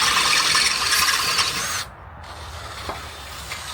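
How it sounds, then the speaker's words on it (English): A drill boring a 5/16-inch hole into the steel frame of a 1954 Chevy truck during a Panza frame kit install gives a continuous gritty grinding whir that drops out briefly near the middle, then resumes a little quieter. "It says drill a 5/16 hole, and then you can tap it and put a 3/8 bolt."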